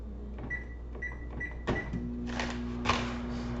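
Microwave oven being set to half power, a few electronic beeps from button presses, a clunk, then a steady running hum with faint clicks and rattles.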